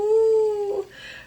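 A young dog in its kennel lets out one long, high, wavering whimpering howl close by, which breaks off and fades into a softer whine.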